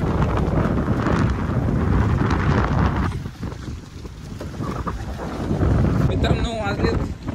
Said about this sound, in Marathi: मस्त वारं सुटले मित्रांनो